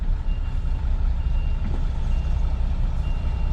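Truck reversing beeps sound steadily over a loud, constant diesel engine rumble as a Class 2 rigid lorry is backed slowly into a yard bay during a driving test reversing exercise.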